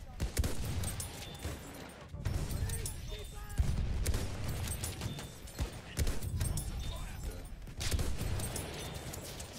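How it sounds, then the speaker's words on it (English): Enemy machine gun fire rattles in Battlefield, bursts of rapid gunshots amid other battle noise, mid-distance, with in-game voices calling out in between. "Enemy machine gun."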